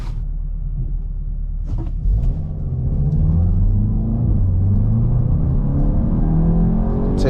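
A 2024 Volkswagen Golf GTI accelerates from a standstill, engine note rising steadily through the revs as a loud, close cabin rumble, with a brief knock near the start and no talking.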